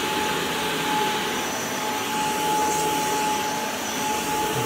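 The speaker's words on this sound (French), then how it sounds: "on va augmenter la puissance d'aspiration" A Proscenic P11 cordless vacuum mop runs on a wet floor at boosted suction power, giving a loud, steady whine with a constant tone that holds without a break or change in level.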